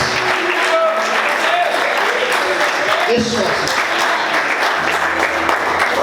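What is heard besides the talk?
congregation applauding in church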